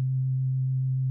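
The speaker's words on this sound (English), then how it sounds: "sort of clean sine wave sound" Hammond B3 organ emulation in Logic Pro X with only the lowest drawbar channel open, giving a steady, clean, pure low sine-like tone that holds evenly throughout, alone with no other sounds.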